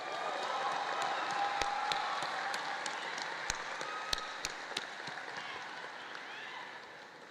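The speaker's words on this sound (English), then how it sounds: "I think that deserves another round of applause." Faint, scattered clapping from a high school commencement audience patters on steadily, with a few sharper claps standing out against a soft crowd murmur.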